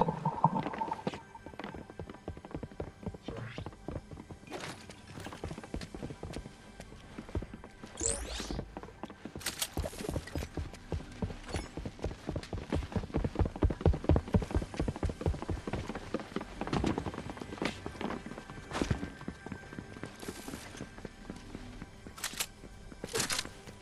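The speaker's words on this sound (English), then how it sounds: "And I hear footsteps." Running footsteps in Fortnite come as a rapid, steady patter of soft thuds lasting throughout, fairly close and busiest in the middle stretch, with scattered sharper game effects layered over them.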